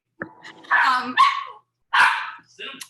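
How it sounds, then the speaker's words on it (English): A small part-Chihuahua dog barks and yaps sharply in a few quick, close bursts, loud against a quiet room, with a brief gap before a final yap. "That's my dog."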